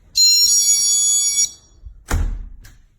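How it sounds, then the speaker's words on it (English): A GE personal security door alarm gives a bright electronic chime, one sustained ringing tone lasting over a second, followed by a short thud and rustle as the door moves. "And that's just the chime."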